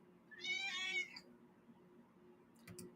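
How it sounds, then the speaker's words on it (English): A house cat lets out one clear, fairly loud meow near the start, then quiet room tone with a faint short sound near the end. "Rory the Wonder Cat is here."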